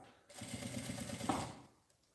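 A sewing machine stitches slowly along the edge of the presser foot while making a cylindrical zip pouch, a single soft run of about one and a half seconds, quiet and close.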